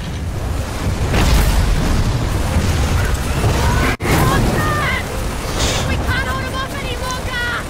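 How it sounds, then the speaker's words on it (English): A big gun fires heavy, booming blasts in the Gears of War 4 video game, with loud explosive bursts continuing almost nonstop amid dense game noise while voices talk over them. "I'm being shot at with a bigger gun."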